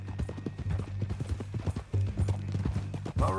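Horse hooves clip-clop steadily at a walking pace in the Western video game Red Dead Redemption 2, close and distinct under a constant low engine-like hum, with a brief whinny-like rise near the end.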